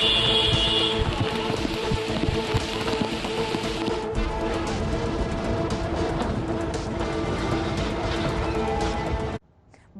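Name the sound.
heavy rain in Uttarakhand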